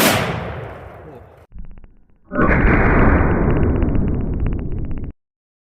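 A .50 BMG rifle firing a Swiss round outdoors: one very loud, close blast with a long rumbling echo tail, followed by a burst of heavy broadband rumble and crackle that drops off abruptly.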